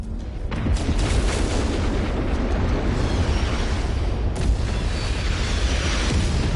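Artillery explosions in MechWarrior 5: Mercenaries, a continuous dense rumble of booms rolling together with no gaps and one sharper burst midway, loud and close.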